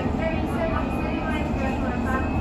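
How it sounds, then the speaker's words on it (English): A continuous rumbling roar inside a moving London Underground train, with faint squeals and talk barely audible beneath the noise. "So we're on our train. Nice has to be warm on the underground."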